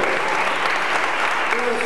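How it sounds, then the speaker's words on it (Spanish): Sustained applause from a Baptist church audience, a full steady roar of many clapping hands with a voice faintly audible beneath near the end. "creo que se merece un aplauso"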